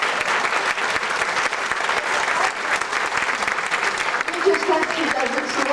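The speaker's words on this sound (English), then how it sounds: "she and her husband, Ward, deserve a real big round of applause" A crowd applauds loudly and continuously, dense clapping filling the whole stretch with some voices mixed in.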